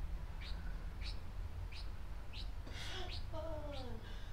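Pet bird indoors giving a string of short, regularly spaced chirps, about one every half second, then a brief warbling call, faint and close, with a voice murmuring in the background.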